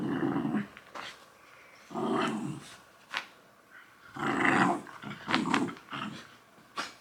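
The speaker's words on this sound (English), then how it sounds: "The dogs are down there playing." Dogs playing nearby give repeated rough growls and grumbles in uneven bursts, some longer and some short and sharp, with no talking.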